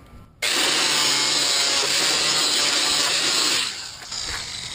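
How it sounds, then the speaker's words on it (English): An angle grinder with a 40-grit sanding wheel kicks on abruptly and grinds a seam loudly with a steady abrasive roar, then eases off near the end as the pressure changes. "I'm using a 40 grit sanding wheel, and then you want to grind the seam right here."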